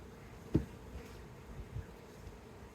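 Honey bee swarm buzzing during an outdoor hive inspection, a faint steady hum with one sharp knock near the start and no talking.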